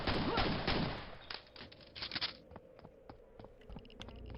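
Shots from a magazine-fed weapon in a Quake map, a loud burst at first, then a string of single reports and clicks at uneven intervals.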